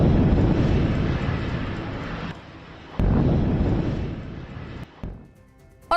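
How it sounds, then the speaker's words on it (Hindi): Heavy rumbling blasts from an airstrike in Lebanon roll out as loud, sustained roars, two big surges separated by a brief drop, then fading with a sharp crack near the end. "देखिए कैसे जोरदार विस्फोट होता है"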